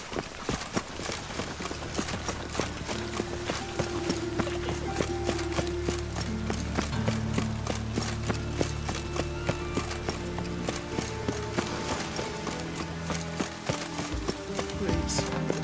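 Horse hooves clip-clop steadily and continuously in The Witcher 3, a close, rhythmic trotting beat under a dense bed of game music and ambience.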